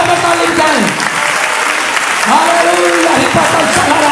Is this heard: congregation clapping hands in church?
yes